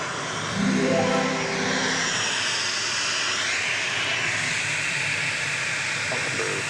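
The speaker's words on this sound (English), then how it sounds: "got a Max 8 getting ready to take off for Washington National Reagan Airport" A Boeing 737 Max 8 jet takes off at Dallas Love Field, a loud, steady broadband engine roar that swells early and holds close for several seconds, with no voices.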